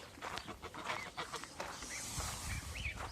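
Geese honking in a backyard garden where chicks roam, a run of nasal, rising calls repeating over a steady outdoor hum, fairly close and mixed with other fowl noise.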